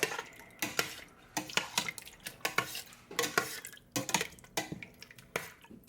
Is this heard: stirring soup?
yes